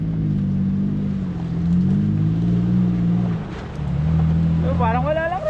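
A 4x4 off-road vehicle's engine revs on a trail in Nakar, Quezon, its low droning note rising and falling in two long surges, with people talking over it near the end.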